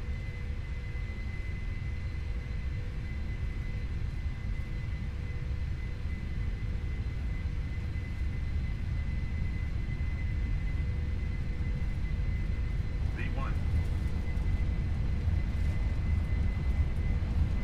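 Boeing 747-400 jet engines in a Prepar3D flight simulator, holding a steady, loud broadband roar with a low rumble throughout the takeoff roll, unbroken and close.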